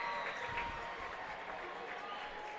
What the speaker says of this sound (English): The fans getting loud.